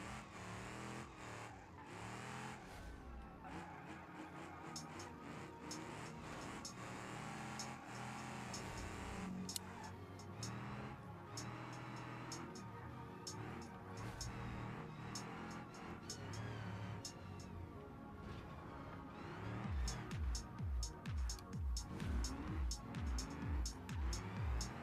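Video game car engine droning steadily throughout amid music and effects, with a louder revving, pulsing burst near the end; a voice is faintly present underneath.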